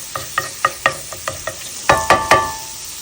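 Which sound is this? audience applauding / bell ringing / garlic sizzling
garlic sizzling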